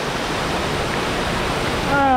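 A waterfall in Subic, Zambales, Philippines roars as a steady, broad rush of falling water. Near the end a brief voice rises over it.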